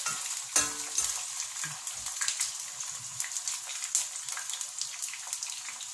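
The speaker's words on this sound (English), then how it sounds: "When vegetable oil become hot, pull down the potato into the oil." Potato pieces frying in hot vegetable oil for a Chinese stir-fried potato with sweet pepper, a steady close crackling sizzle throughout with a few brief clinks near the start.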